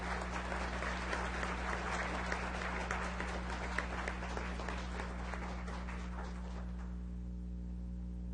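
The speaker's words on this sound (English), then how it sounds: "Let's give them a round of applause, please" Applause from an audience at a city council meeting, a steady wash of many hands clapping over low room hum, fading out near the end.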